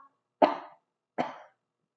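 Two short, separate coughs about three-quarters of a second apart, close and fairly loud, with silence around them.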